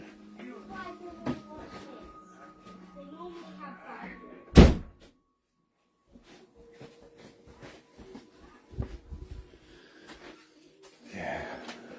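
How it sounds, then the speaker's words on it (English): Indoors, a door is pulled shut with one loud, sharp slam that is followed by a brief silence, with people talking before and after. "Close the door."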